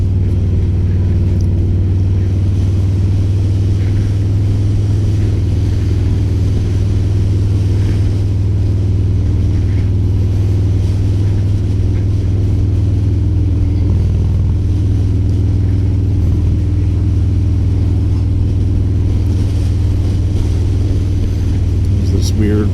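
A 2022 Harley-Davidson Street Bob 114 motorcycle cruises on the road with a loud, steady low engine rumble and heavy wind buffeting that fill the whole ride, and the rider talks over it.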